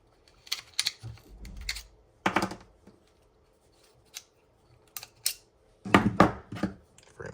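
Metal and polymer parts of a Sig P320 pistol clicking, sliding and clacking as it is taken apart, in several short close bursts with pauses between.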